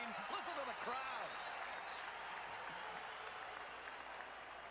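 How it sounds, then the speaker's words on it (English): A large stadium crowd cheers and applauds at a televised sports-entertainment event, a dense, sustained roar heard from a distance, with whistles and a commentator's voice over it. "Listen to the crowd."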